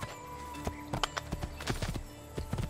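A white horse in the video game Assassin's Creed 2 clip-clops along in a steady run of hoofbeats with a brief neigh, heard close and alone with no talking.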